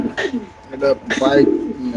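Pigeons coo in short soft bursts, with a hen racing pigeon among the birds for sale, while people talk close by over the cooing.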